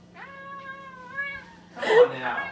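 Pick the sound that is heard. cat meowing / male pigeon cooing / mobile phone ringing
cat meowing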